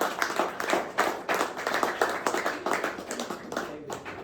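Scattered hand clapping from a small audience at a poetry performance, in uneven rhythmic bursts, close and moderately loud.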